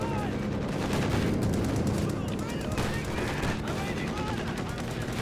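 Dense, continuous gunfire and explosions fill a Company of Heroes 2 battle, with rockets, bombs and a Sturm Panzer among them. Overlapping rifle and machine-gun bursts roll together at a steady loud level.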